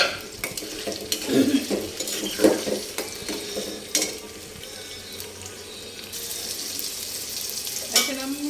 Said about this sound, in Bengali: এখন আমি এই চুলায় মিট বল আর সসেসটা একটু ভেজে নেব হালকা